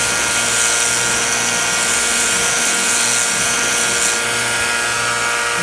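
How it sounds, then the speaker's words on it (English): A belt sander grinds pitting off a Stanley hammer head, a loud, continuous high whine that runs unbroken throughout with no speech. "we just finished with the belt sander, a little bit of flap sanding"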